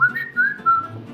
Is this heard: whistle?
yes